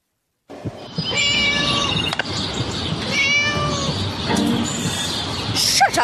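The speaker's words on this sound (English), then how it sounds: "Shut up, you silly cat." A cat meows repeatedly in Scary Teacher 3D, with several drawn-out, wavering cries over a busy game soundscape, loud and close.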